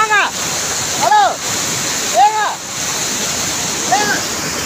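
Courtallam waterfall in heavy flood roars with a loud, constant rush of pounding water, joined by a few brief, high, arcing call-like tones that recur every second or so.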